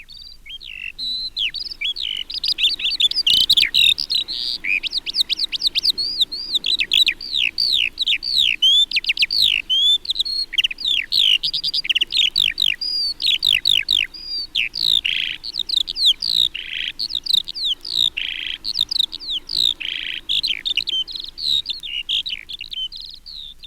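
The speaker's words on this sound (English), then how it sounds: "the skylark is common, and its torrent of notes floats down to us from late winter through to high summer" Skylark song, a torrent of high, rapid warbling and trilling notes poured out continuously and fairly close, the singing bird dominating over a faint low background hum.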